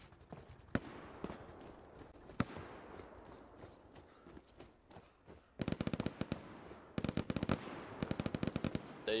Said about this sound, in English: I hear a machine gun, I'll try and spot him for you, Antidote